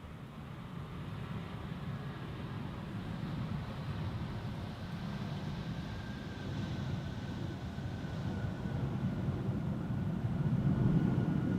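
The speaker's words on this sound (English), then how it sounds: "another 777-300ER arriving from Lima" A Boeing 777-300ER airliner arriving from Lima at Amsterdam Schiphol in crosswind conditions gives a steady, distant jet roar with low rumble, building slightly louder toward the end, with no voices.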